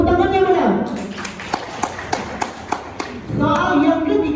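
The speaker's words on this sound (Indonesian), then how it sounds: "Tepuk tangan yang benar." Short burst of clapping at a school law-awareness ambassador selection quiz, about a dozen sharp claps in an uneven rhythm, with talk just before and after.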